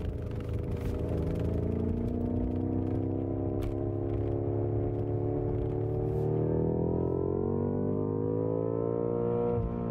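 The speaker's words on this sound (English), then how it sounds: "let's do some acceleration, pulling onto the highway here" A BMW M5 accelerating hard onto a highway, its engine note climbing steadily in pitch with strong layered harmonics, loud and close from inside the cabin, with no talk.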